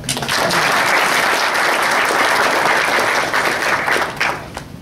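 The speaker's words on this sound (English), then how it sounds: "One more round of applause." Sustained audience applause fills the room at a spiritual business forum in Singapore, loud and dense throughout, then thinning slightly near the end.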